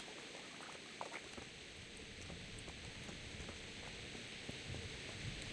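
Rain falling in the medieval video game Kingdom Come Deliverance, a faint, steady patter and hiss with occasional soft drips, no talking.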